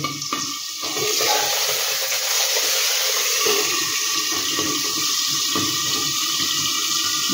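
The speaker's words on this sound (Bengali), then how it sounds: "এভাবে আমি মাছগুলো একটু ভেজে নিই।" Tengra fish, six of them, frying in hot oil in a pan, giving a steady, loud, broad sizzling hiss that runs the whole time without a break.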